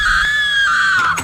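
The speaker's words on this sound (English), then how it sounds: "I heard you scream" A single high-pitched, sustained scream rings out close and loud for just over a second, its pitch holding steady before sliding downward at the end.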